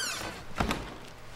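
A door in the video game The Stanley Parable makes one muffled thunk partway through as the player walks through it, set against faint background ambience.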